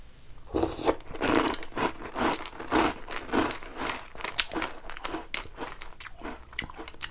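Crunchy Captain Crunch cereal is chewed close up, with a steady rhythm of sharp, dry crunching bites repeating throughout and no talking.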